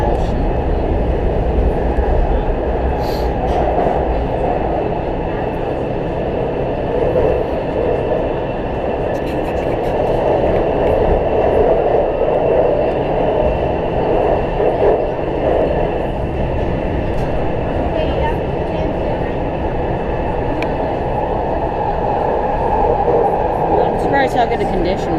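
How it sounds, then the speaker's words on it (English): A Washington Metro Rohr railcar with AC propulsion motors rumbles and hums steadily on the Red Line for the whole stretch, loud and continuous, with a faint high electric whine above the rolling noise. "these were the first trains on the system to have the AC propulsion instead of the DC propulsion"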